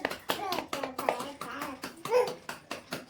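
A young child claps in quick, steady rhythm, about a dozen close sharp claps, while a voice chants and babbles along throughout.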